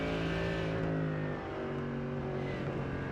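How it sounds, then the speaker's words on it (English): A Mercedes race car in a sim racing game gives a deep, throaty engine drone with a brief dip in revs midway, close and continuous, with no talk over it. "Listen to that muscular sound in this Mercedes."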